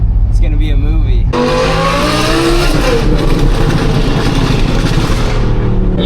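Audi R8 V10 with an aftermarket exhaust revving hard, heard from inside the car: a loud, rising engine howl sweeps upward after a brief idle, then holds a roaring, raspy pitch through several seconds before easing off.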